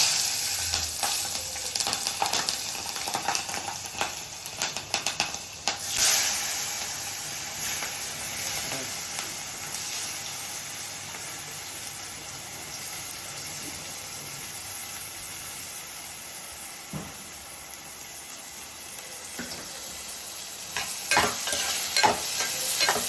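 Onions and green chillies fry in a pan, browning to a reddish colour, as a constant hissing sizzle with repeated stirring scrapes and spoon clatters scattered throughout, with no voices.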